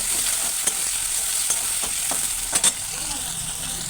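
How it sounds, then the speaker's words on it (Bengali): Onions hit hot oil in a pan after fish has been fried, giving a loud continuous sizzle with several sharp stirring scrapes and clinks close by. "এদিকে তেলটা গরম হয়ে আছে। এবার আমি দিয়ে দেবো পেঁয়াজ।"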